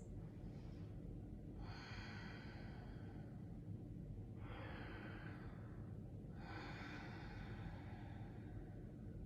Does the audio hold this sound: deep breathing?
yes